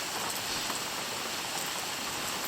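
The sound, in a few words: rain falling on Adirondack lean-to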